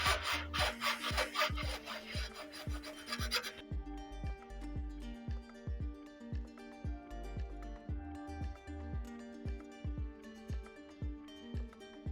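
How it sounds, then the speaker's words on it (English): Rhythmic rasping strokes of a round file sanding wooden bulwark planking on a San Felipe ship model, steady back-and-forth scrapes close up, harsher and brighter at first, then continuing in a regular pattern with no talking. "you take the round file. It is flat from one side and round with the other, and you're starting to sand it down"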